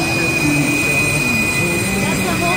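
A race powerboat with aircraft turbine engines idles past at the Lake of the Ozarks Shootout, giving a loud, steady turbine whine over a deep rumbling drone.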